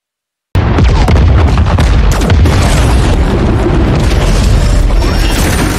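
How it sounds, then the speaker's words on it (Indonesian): A landmine detonates beneath a robot in a sci-fi film scene, bursting in suddenly after a moment of silence with a loud, sustained roar and crackling debris that rumbles on for several seconds. "Untungnya Atlas telah memasang ranjau dan meledakkan Casca secara dahsyat."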